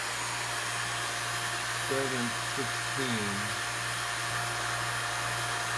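A vacuum pump runs on an air conditioner unit during repair, giving a steady, loud mechanical drone throughout. A voice briefly speaks over it partway through.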